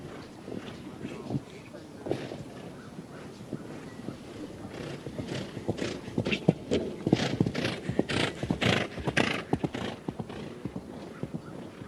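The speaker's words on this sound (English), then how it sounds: "Such a big, beautiful horse." Horse hooves clip-clop steadily on firm ground at a horse trials event, growing louder and more distinct toward the end, with crowd murmur and a voice in the background.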